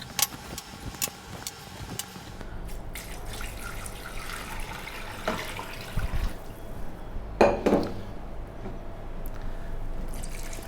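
Water runs into a pot for fish stock, a steady close filling stream with a few clattering bumps and splashes, no voices.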